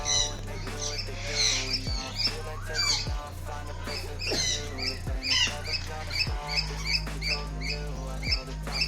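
Macaws and cockatoos at the Yelagiri exotic bird park give repeated sharp squawks and squeaky calls over a steady, droning low background.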